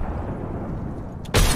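A frag grenade goes off in the Apex Legends video game, a sudden loud broadband blast arriving near the end after a stretch of dense, noisy game ambience.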